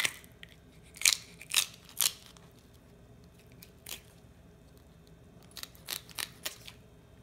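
Scissors snip through the bony section of an American shad fish in a kitchen, giving a handful of sharp, close crunching cuts clustered early, a single cut midway, then a quick run of snips near the end, with no talking.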